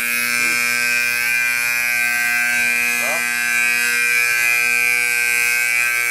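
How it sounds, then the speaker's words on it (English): A building security alarm sounds continuously at a loud, steady level, a sustained electronic tone with harmonic buzz throughout, while brief faint voice fragments surface beneath it. "I set off the alarm."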